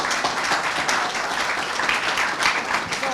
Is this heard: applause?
yes